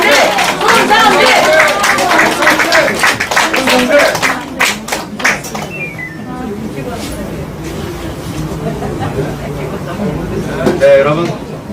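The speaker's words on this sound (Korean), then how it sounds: "여러분 뜨거운 박수 부탁드리겠습니다." A large outdoor rally crowd in South Korea claps loudly and rhythmically at first, then the clapping thins out and fades to scattered claps and murmuring voices before swelling slightly again at the end.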